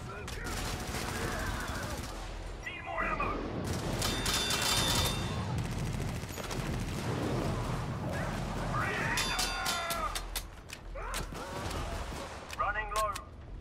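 Grenade blasts and rapid gunfire from the video game Helldivers, with dense bursts of shooting and heavy explosions running almost continuously, loud and close, while players talk over the chaos.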